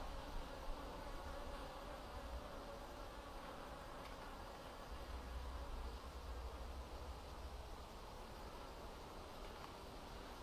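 Bees buzzing around a beehive frame during a hive inspection, a dense continuous hum of many insects close by, steady throughout with no talk.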